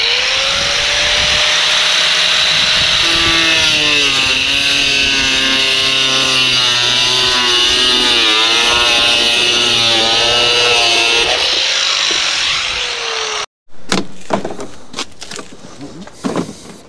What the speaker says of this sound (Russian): берем болгарку, диск по бетону и начинаем резать